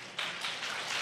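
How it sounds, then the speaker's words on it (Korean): A church retreat audience claps together to welcome newcomers, a soft, dense patter of applause heard from a distance. "오늘 오신 분 우리 환영합니다라고 한번 박수 쳐드릴까요?"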